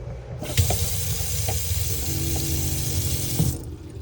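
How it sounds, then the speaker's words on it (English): Steady rushing water runs inside a Ci Carioca 50 caravan as its 12-volt pump works, a continuous close hiss with a faint pulsing hum beneath it for about three seconds before stopping. "So you've literally got internal lights and water pump."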